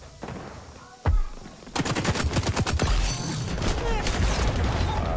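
Gunfire from the first-person shooter game XDefiant: a single loud shot, then rapid automatic bursts and sustained shooting close by with a steady wash of game ambience.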